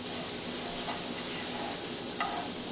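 Butter sizzling and hissing in a hot pan while cooking hot water bread, a loud continuous frying crackle close up with no breaks.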